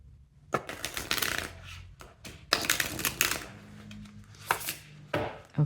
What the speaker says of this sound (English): I'm just going to reshuffle.